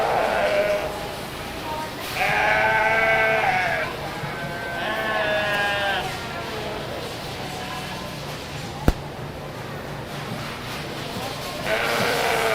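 Sheep bleating at the Red River Valley Fair livestock show, several loud wavering bleats in separate calls, with a judge's voice talking throughout.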